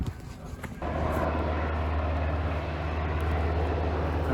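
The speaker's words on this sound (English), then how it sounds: "We got Cal Fire planes." Cal Fire firefighting airplanes passing over a wildfire near Petaluma: a loud, steady engine drone that starts abruptly and holds close and constant, with no talk.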